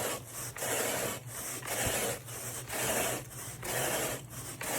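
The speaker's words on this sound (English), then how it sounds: "we're going to agitate the solution into the fibers with this good, trusty rake" A rake is worked through carpet soaked with cleaning solution, giving steady rhythmic rasping strokes, roughly one every second, close and fairly quiet with no voices.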